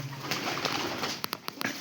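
Pigeons coo close by, soft throaty calls over a noisy background, followed by a few quick sharp flutters or taps.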